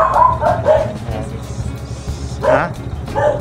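Several dogs barking along a street during a stop: repeated close yips and barks in short bursts over a low rumble of traffic, with a person talking intermittently beneath them.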